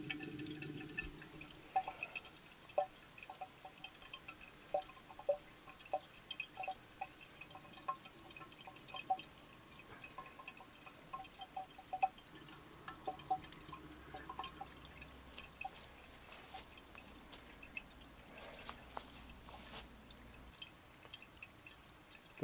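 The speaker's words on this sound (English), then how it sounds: "Trickle, trickle, trickle." Water trickles and drips inside a 1936 Standard Modernus, a soft, steady run of small droplets with scattered faint plinks, quiet and close, with no voices.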